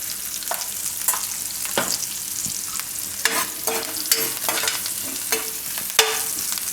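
Asafoetida sizzling in hot oil in a home kitchen while being stirred, a constant close frying hiss broken by repeated sharp scrapes and clinks of a spoon against the pan, with no one talking.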